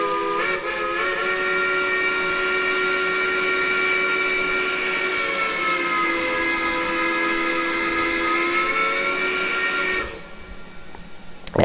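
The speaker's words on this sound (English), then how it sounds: "It's a really good sounding whistle." A Machine Rail 1907 EFCB 0-6-6-0 steam locomotive in Train Simulator Classic sounds a long, loud, chord-like steam whistle, held steadily for about ten seconds with a slight pitch shift midway before cutting off.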